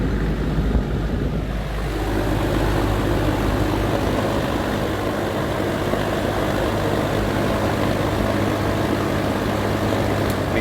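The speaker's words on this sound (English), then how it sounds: "Quite a different blade sound on it on exhaust setting" A vintage Sears Kenmore 480.81971 window fan on exhaust setting whirs steadily with a low droning hum and airy rush of blades, settling into a constant tone after the first couple of seconds.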